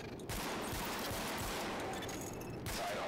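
Sidearm gunfire in The Division, a rapid volley of loud shots fired at highlighted targets during a training test, dense and continuous over about three seconds.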